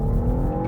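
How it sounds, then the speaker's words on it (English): A BMW XM with a turbocharged straight-six engine accelerates, giving a loud, close, steady engine drone with a strong low hum in a brief burst and no talk. "Makes quite a nice noise, of course, from that turbocharged straight six engine."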